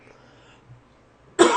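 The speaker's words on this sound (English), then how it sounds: "Excuse me for coughing in your ear." A man's single sharp cough bursts out loud and close near the end, after a stretch of near silence.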